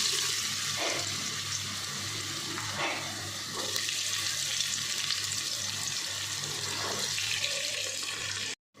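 Steady, loud sizzling of vegetables frying for veg pulao in a hot pressure cooker, with a few soft clinks and stirring scrapes over the continuous hiss.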